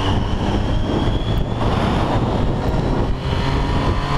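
A Triumph Street Triple motorcycle cruising on a highway, its engine and rushing wind forming a loud, steady broadband roar that holds without a break throughout.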